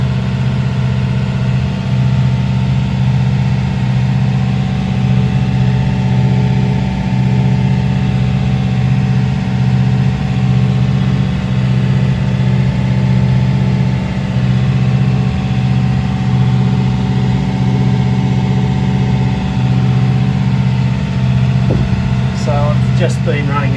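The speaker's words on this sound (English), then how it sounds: "Running the engine, just getting it up to temperature." A Yanmar marine diesel engine runs steadily while warming up to temperature, a loud continuous low idle throb lasting throughout, with a few faint clicks near the end.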